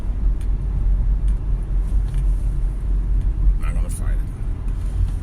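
Cars pass on a road at night, a continuous low traffic rumble with a brief brighter whoosh of a passing vehicle, heard beneath a person talking throughout.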